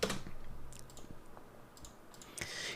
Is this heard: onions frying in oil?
no